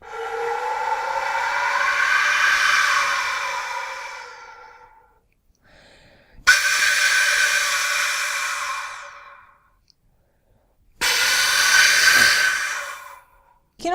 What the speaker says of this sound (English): You can blow across the holes up and down.